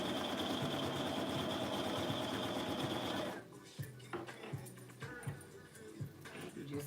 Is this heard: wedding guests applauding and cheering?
no